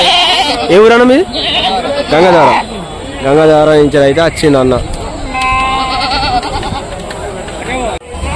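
Goats and sheep at a busy animal market at Rajarampalli bleat loudly and close, several wavering cries coming in quick bursts, while people talk over and between the calls.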